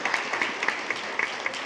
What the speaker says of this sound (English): So a big round of applause for Amelia Earhart.